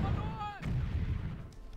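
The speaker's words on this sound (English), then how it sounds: "Let me also see if we can drop some artillery here" Artillery rounds land in a D-Day strategy game, a whistling descent followed by a deep booming blast and rumbling aftershock, with a voice talking faintly underneath.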